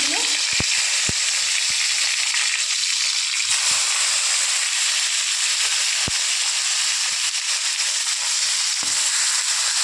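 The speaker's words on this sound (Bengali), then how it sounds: "এগুলো মাছটাকে ভালো করে ভেজে নিয়ে চলে আসছি" Fish fries in hot oil in a pan, giving a loud, continuous close-up sizzle with occasional sharp pops and clinks throughout.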